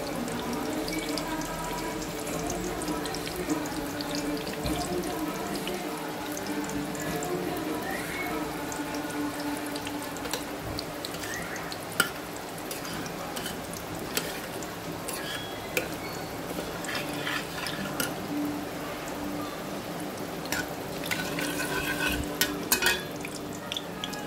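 Tempering spices frying in peanut oil for an Andhra mango drumstick dal, a long dense crackling sizzle with scattered pops and kitchen clatter running throughout, with a faint voice now and then.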